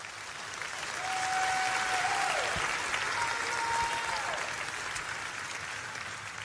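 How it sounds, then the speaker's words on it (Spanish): A church congregation claps for the Lord during a Spanish-language sermon, a broad sustained wash of applause rising and holding for several seconds, with faint sung or held voices drifting over it. "Vamos a dar al Señor un aplauso como debemos"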